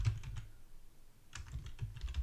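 Keys tapped on a computer keyboard while entering a Linux terminal command, a quick cluster of soft clicks, a pause, then another run of keystrokes, close and fairly quiet.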